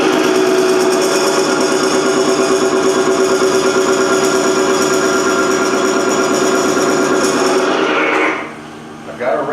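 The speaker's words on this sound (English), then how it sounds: "I've got a wrench maxed out and the engine just won't stop" An HVAC motor strains under heavy load during a Falex oil test, a loud, steady mechanical drone with high whining harmonics that runs unbroken before suddenly dropping off near the end.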